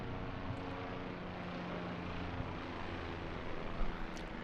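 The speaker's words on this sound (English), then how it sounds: "everybody can hear the dope-ass helicopter that just flew by" A helicopter passing overhead outdoors, heard as a steady, fairly faint broadband rotor and engine drone that holds evenly throughout without talk.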